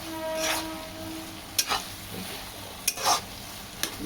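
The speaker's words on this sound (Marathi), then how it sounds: "आपण ही भाजी परतत राहायची आहे थोडा वेळ, 1-2 सेकंद." Methi (fenugreek) greens stir-fried in a pan; a steady sizzle broken by several scraping strokes of a spatula and light metal clicks, close and alone without speech.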